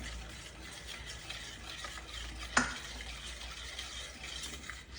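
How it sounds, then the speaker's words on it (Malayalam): A spoon stirring milk with honey as it boils in a pot for mango pudding, a steady bubbling sizzle with scraping and one sharp clink partway through. "തുടരെ ഇളക്കിക്കൊണ്ടിരിക്കണം"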